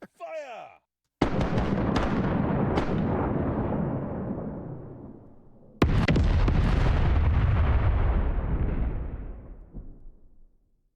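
Ship cannons in a pirate video game, Mount & Blade with Sid Meier's Pirates, fire in two big rolling volleys of overlapping booms, each with a long decaying rumble, after a short whistling sound at the start.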